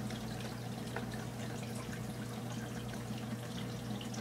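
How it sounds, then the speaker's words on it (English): Water pours steadily into a fish tank while topping it up, a continuous even splashing and trickling stream, close and fairly quiet, with no talking over it. "Put some more water in there."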